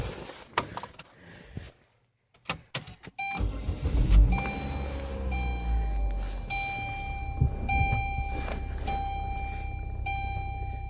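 A Saturn Ion with an electric power steering fault pulls away and drives, its engine building from a low rumble to a steady hum after a few clunks and a pause.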